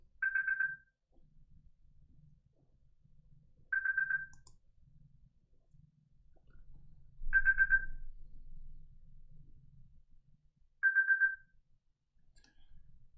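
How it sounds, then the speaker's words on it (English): A phone rings with four short electronic ring bursts spaced evenly a few seconds apart, clear against a quiet room with a faint low rumble between rings. "got a phone call."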